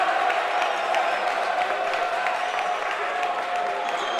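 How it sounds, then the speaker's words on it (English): Crowd at a high school basketball game between OLSM and De La Salle cheers and claps steadily throughout, a loud, dense wash of applause and voices with no single standout shout. "Crowd rising."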